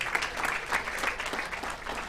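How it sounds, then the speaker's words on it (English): A warm round of applause rises from guests at a golden anniversary gathering of a medical class, a steady wash of clapping at moderate level. "A warm round of applause,"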